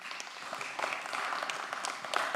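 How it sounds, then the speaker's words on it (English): Applause from a crowd at a commission meeting, a dense, continuous patter of many hands clapping steadily throughout at moderate volume. "you know we're not supposed to clap"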